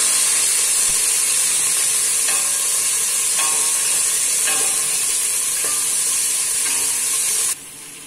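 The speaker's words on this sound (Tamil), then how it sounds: "அப்போ பச்சை மிளகா, தக்காளி நல்லா வதக்கிக்கலாம்." Green chillies and tomatoes sauté in a hot pan with a loud, steady sizzle and hiss, stirred with a few clattering scrapes, until the sizzle drops off sharply near the end.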